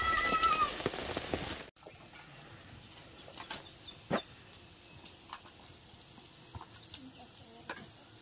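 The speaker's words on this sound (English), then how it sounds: "But now it's only raining." Steady rain patters and hisses after a brief louder burst with a little hail at the start, with scattered drips tapping nearby.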